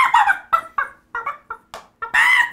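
A person imitates a rooster crowing with a string of short, clucking vocal bursts, ending in a longer, rising crow-like call, close and loud with no other sound.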